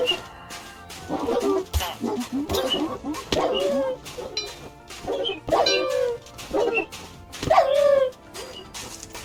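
Dogs in a Minecraft survival world, the Mineshafts & Monsters modpack, give a run of repeated yelping barks and whimpers, fairly loud and close, coming in quick bursts for several seconds with a faint background hum.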